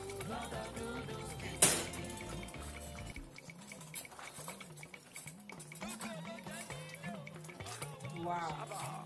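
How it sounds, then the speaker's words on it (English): Water pours and splashes into a pot of thickening bitterleaf soup amid kitchen clatter and stirring, a sharp knock near the start, moderately quiet and continuous. "I'll just put a little bit of water."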